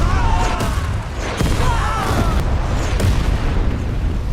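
A film explosion set off by a helicopter attack booms out as a dense, loud roar with several sharp blasts and crackling bursts layered over a low rumble.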